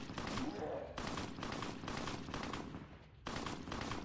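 Rapid three-round burst fire from a video game rifle in a Halo-style shooter, loud repeated volleys of shots in quick succession with brief gaps between bursts.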